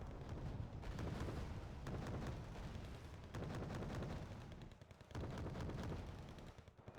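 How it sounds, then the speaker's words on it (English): Heavy mortar firing in the video game Wargame Red Dragon, a run of loud booming blasts with rumbling tails, spaced about every second or two, with no voices over it. "Got the heavy mortar firing."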